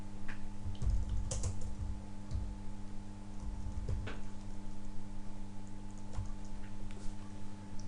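Steady typing on a computer keyboard while entering import information into database software, with light irregular key clicks throughout over a constant electrical hum.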